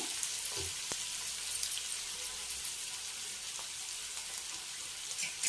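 Fenugreek leaves frying in a pan for a dal dish, a steady close hiss and sizzle with light stirring clatter throughout, no voices.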